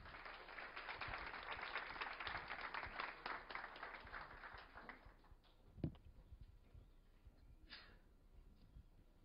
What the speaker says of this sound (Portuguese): Então vamos recebê-la com um aplauso de boas-vindas.